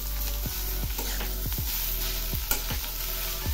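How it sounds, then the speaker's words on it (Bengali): Banana stem paste with salt and turmeric is stirred in a hot frying pan: a continuous sizzle broken by about seven regular scraping strokes of the spoon, close and fairly loud, with no voices. "এবার আমি এগুলি নেড়ে দিচ্ছি"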